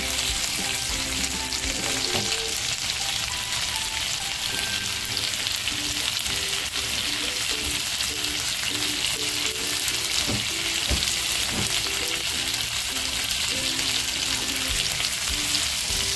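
Squid stuffed with prawns frying in a pan after being flipped, giving a loud, continuous, close-up sizzle that holds steady throughout, with no talking.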